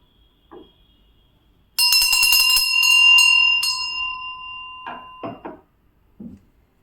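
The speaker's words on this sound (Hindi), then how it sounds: "हमारी घंटी बज चुकी है।" A single bright bell rings out and its tone lingers before fading, with a few soft knocks and thumps before and after.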